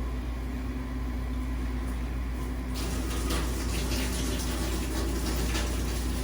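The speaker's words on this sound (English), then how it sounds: "So I'm gonna do 2 cups of water." Water pours into a cooking pot for Spanish rice, a soft steady splash that brightens and grows louder partway through, against a low kitchen hum with no talking.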